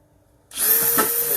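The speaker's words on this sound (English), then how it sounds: "So I'll go ahead and drill those." A power drill bores holes into an arcade control board, starting abruptly from near silence into a loud, steady whine that continues to the end.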